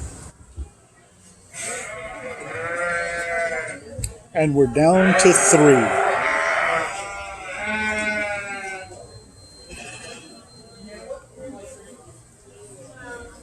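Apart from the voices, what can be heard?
sheep bleating at a market lamb show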